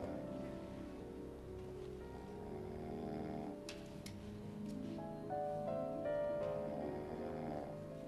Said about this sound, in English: this could be genuinely just fake snores. I mean, they are very loud